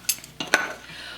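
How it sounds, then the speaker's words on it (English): A couple of sharp metallic clanks and clatters as a lid is set down on a cast iron frying pan, followed by a faint lingering ring. "we'll cover our cast iron frying pan now"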